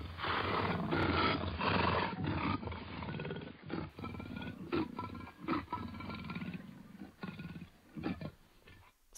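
A cheetah call played back from an iPad animal-sound app: repeated rough, growling roars in bursts, fairly loud and close, with no talking.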